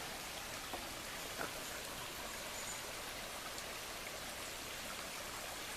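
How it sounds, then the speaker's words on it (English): The North Fork Moormans River, a mountain river in Shenandoah National Park, rushes steadily, a dense, even wash of flowing water that continues unbroken and alone throughout. "Starting to look like a river now. Mountain river anyway."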